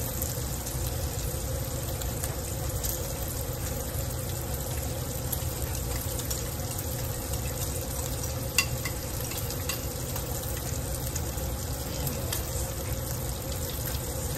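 Steady, crackling sizzle of bacon frying in a pan, continuous and fairly close, with faint kitchen clatter and no talking.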